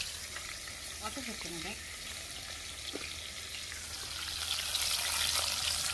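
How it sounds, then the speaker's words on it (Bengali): Baim eel fish fries in oil over low heat, a steady soft sizzle with faint crackle that swells slightly toward the end; a voice speaks briefly. "এখন কিন্তু আমি অল্প অল্প হিটে কিন্তু আমি মাছটাকে ভেজে নেবো"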